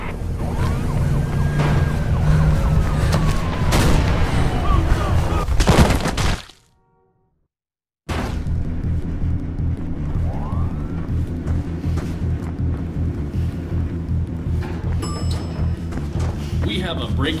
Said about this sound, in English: Picking up squad cars moving in on you.